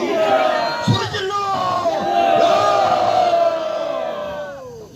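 Rally crowd bellowing a loud collective shout on command, a sustained roar of many voices that swells and then fades, close and alone.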